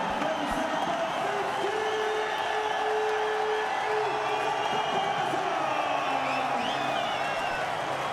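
A stadium crowd at a Pakistan vs Namibia T20 World Cup cricket match cheers and applauds as captain Babar Azam reaches a fifty, a steady, dense roar with scattered whoops holding throughout, heard from a distance across the ground.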